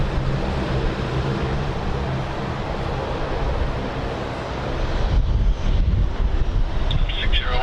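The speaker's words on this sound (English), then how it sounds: "If you haven't been to an airport and heard one of those 340s, they are so loud." Airbus A340 jet at Sydney Airport, a loud continuous roaring engine rumble with heavy wind noise on the microphone, close and steady throughout, with speech over it.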